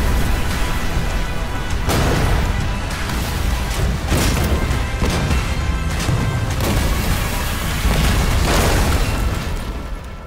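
Movie-style explosion effects, a loud, dense wall of booming blasts with repeated heavy bursts rolling over one another for about ten seconds before easing off slightly at the end.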